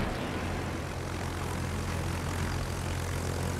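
A fighter aircraft engine drones steadily in World of Warships, a loud continuous propeller roar that holds level throughout with no talk.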